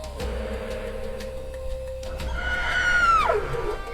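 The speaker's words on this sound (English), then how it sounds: "These terrifying cackles carry for miles, demanding immediate reinforcements from the clan." A hyena's shrill, rising and falling cackling call with wavering, whooping tones, growing louder toward the end over a low rumbling background, in Ngorongoro Crater.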